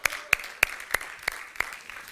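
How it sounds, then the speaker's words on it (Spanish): An audience at a talk on the climate crisis in Banyeres gives a few sparse claps, about six sharp claps spaced evenly and fairly faint, with no talk over them. "vamos a aplaudir a WhatsApp"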